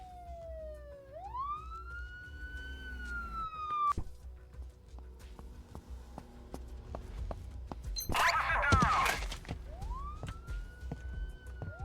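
A police car siren in Advanced Crime Simulator wails up and down in long sweeps, starts again after a harsh burst of noise, and is heard over a steady rhythm of soft clicks.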